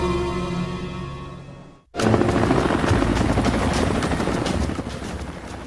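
Sikorsky S-92A helicopter heard up close: a steady, loud broadband roar with rotor pulsing that cuts in abruptly after a fading low drone and a brief near-silence, then holds strong to the end.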